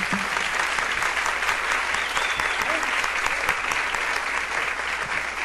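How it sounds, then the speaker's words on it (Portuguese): A church congregation applauds its founding members, with steady, dense clapping from a large group filling the room at a constant level, and faint voices mixed in beneath. "os irmãos fundadores da igreja que estão aqui hoje representando os fundadores merecem até um aplauso"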